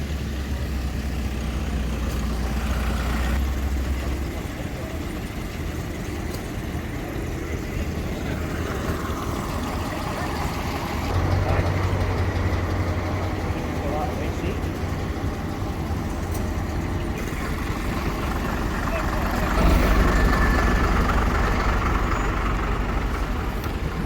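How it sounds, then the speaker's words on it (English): Vintage fire engines rolling past at an outdoor vintage vehicle display at Scone Palace, Scotland, heavy engines rumbling steadily with swells as each one draws near, amid crowd ambience. "It's just the same drill with the fire engines coming down as well."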